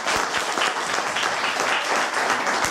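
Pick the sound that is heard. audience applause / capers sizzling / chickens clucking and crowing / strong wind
audience applause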